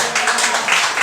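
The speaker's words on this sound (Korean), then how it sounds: "힘주시라고 우리 박수로 한번 할렐루야 하면서 우리 한번 맞이하겠습니다" Church congregation clapping together during a Sunday worship service, a steady, dense patter of many hands over about a second, fairly loud and close.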